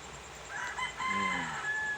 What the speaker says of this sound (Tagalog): Kabati mo sa mga manok, mga bayot.